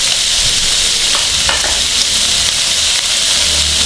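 Two chopped green chillies hit hot oil in a frying pan while samosa filling is being cooked, giving a loud, steady, close sizzle throughout with no talking.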